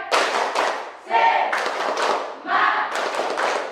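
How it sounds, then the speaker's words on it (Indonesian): Classroom of standing students doing the rhythmic Indonesian 'tepuk semangat' spirit clap, bursts of group clapping in a patterned beat mixed with chanted voices. "Kita tepuk semangat."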